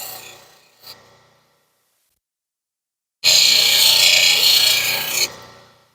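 An Ethiopian opal specimen ground on a wet abrasive wheel at fine 100 to 1200 grit: a brief rasp, silence, then a loud sustained hissing grind lasting about two seconds before fading.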